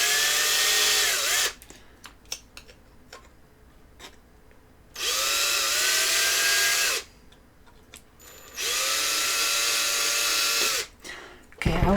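Small power drill boring holes into a Warhammer 40k miniature, whining loudly in three sustained bursts of a few seconds each, with quieter gaps where someone talks.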